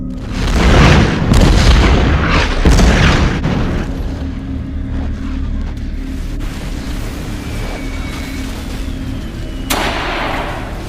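A deep boom rumbles loudly in the first few seconds, with heavy low-end bursts, then fades into a lingering low rumble and distant noise.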